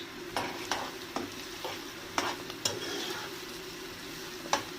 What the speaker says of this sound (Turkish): Biraz havucun soğanla kavrulmasını istiyorum.